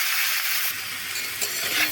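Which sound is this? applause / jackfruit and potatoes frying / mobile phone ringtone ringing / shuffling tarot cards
jackfruit and potatoes frying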